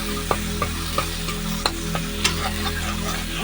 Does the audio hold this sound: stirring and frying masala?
yes